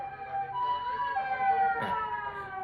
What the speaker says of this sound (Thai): อาจจะมีรถพยาบาลผ่านไปนิดนึง